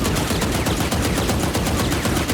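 Rapid automatic weapon fire in Valorant, where recoil kicks the aim upward: a loud, fast, steady stream of sharp shots with no pauses and no voices.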